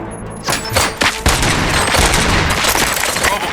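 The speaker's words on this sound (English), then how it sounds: "Gunshots? What's going on?" Rapid gunfire bursts in the Robocop Rogue City video game, loud and dense, crackling continuously after a brief quieter start with layered shots and impacts.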